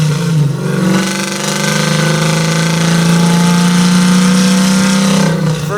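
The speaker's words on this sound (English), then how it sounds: "3-inch exhaust with Black Widow 300s out back. And she's loud when you open her up, she's loud." A 1967 Chevy Nova with a supercharged LS9 V8 and 3-inch exhaust through Black Widow 300 mufflers revs hard and loud up close, a deep sustained roar climbing and holding for several seconds before dropping off.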